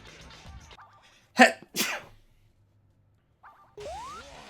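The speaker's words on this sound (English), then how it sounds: "I'm gonna sneeze again." A single sharp sneeze, loud and close, with a quick follow-up breath, set between quieter moments of faint background noise.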